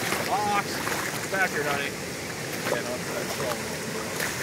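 Floodwater pours across a township road in Boyd County, Nebraska, a steady outdoor rush heavily buffeted by wind noise on the microphone.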